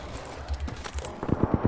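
Rapid gunfire in the video game Apex Legends, a quick burst of sharp, punchy shots that grows denser and louder toward the end.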